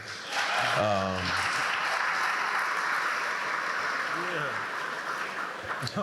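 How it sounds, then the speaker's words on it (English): Audience applause fills a conference forum hall, a broad steady wash of clapping lasting throughout, with a voice speaking briefly over it near the start and again toward the end. "you can go ahead and clap if you want"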